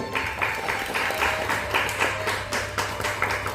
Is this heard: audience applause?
yes